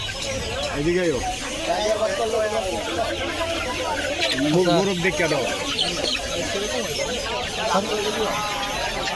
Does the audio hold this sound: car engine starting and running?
no